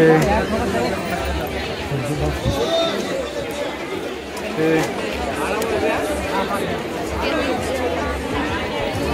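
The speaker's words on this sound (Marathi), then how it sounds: "एवढी गच्च गर्दी आहे भाई" A dense Sunday crowd packs Tulsi Bagh market in Pune, its overlapping voices merging into a loud, steady babble with shuffling and passing movement all around, with no single speaker standing out.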